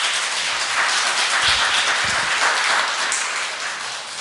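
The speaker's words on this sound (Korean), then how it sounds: "격려의 박수 부탁드립니다" A church congregation applauds its choir during a Sunday service, a dense, continuous wash of clapping that fills the sanctuary evenly from start to finish with a few deeper thumps mixed in.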